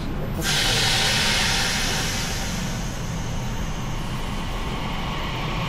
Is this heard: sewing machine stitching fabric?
no